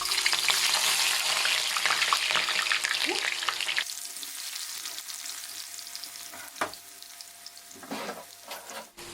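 Onion frying in hot oil with a dense, steady sizzle that fills the first few seconds, then drops to a softer crackle broken by brief clinks and stirring sounds near the end.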